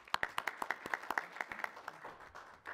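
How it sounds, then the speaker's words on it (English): Council meeting audience giving a brief round of applause, a small group producing distinct sharp claps that quickly thin out and fade within a few seconds, fairly quiet and distant. "Round of applause for Gerard."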